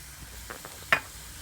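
Red chili added to a hot pan while making garlic chutney gives a brief, faint sizzle and a single sharp clack of a spoon against the pan near the middle.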